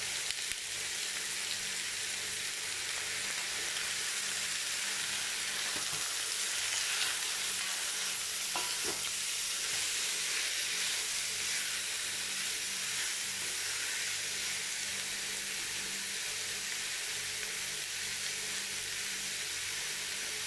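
Pork sizzles and fries steadily in a pan, rendering its fat for binagoongan, a dense continuous hiss with faint crackles, close and even throughout.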